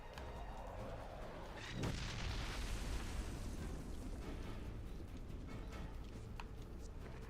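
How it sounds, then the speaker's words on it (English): A video game explosion in Ghost Recon Advanced Warfighter 2 on the PS3 demo: one loud burst that swells into a long, steady roaring rumble lasting several seconds at close range. "It's gonna explode! I'm clearing out! It's gonna explode! Move away!"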